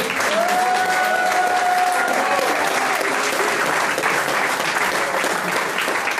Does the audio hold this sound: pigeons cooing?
no